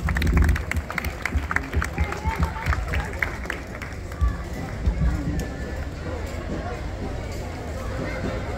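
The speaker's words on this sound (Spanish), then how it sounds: "Un fuerte aplauso a los representantes de banda La Capital por su" A crowd at a rhythmic marching band festival ceremony in Jinotega, Nicaragua, bursts into lively applause that gradually thins into a murmur of voices and scattered claps.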